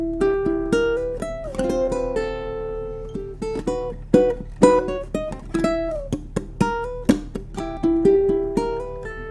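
A solo ukulele plays The Munsters theme, running the A melody into its short ending as plucked notes and strummed chords. The rhythm is bouncy and uneven, and the playing is close and clear with no talking.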